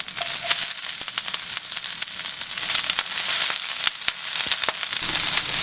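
Swiss chard and garlic scapes sizzle and crackle steadily in a hot pan, a dense close frying hiss punctuated by sharper pops throughout.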